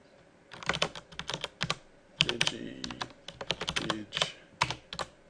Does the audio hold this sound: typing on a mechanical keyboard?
yes